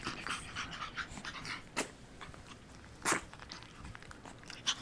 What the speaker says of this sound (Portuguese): Não morde a mãe. Esses dentinhos doem.